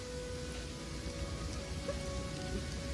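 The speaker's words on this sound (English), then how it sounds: "it's raining really hard" Heavy rain pours in the fantasy role-playing game Pathfinder: Kingmaker, a faint, steady hiss of drops hitting the ground with no break across the short stretch.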